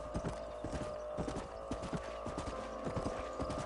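Horses' hooves clip-clop in a steady, uneven gait in the Western game Red Dead Redemption, close and clear over a low background hum, without talk.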